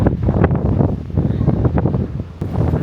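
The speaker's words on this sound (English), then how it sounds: "it's a bit windy up here" Wind buffeting a microphone on the top deck of the P&O Ventura cruise ship, loud gusty low rumbles and flutter, continuous and close, with no talk.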